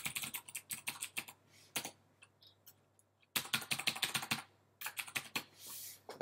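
Clacking keystrokes on a computer keyboard, close and clear, in quick bursts separated by short pauses, no talking.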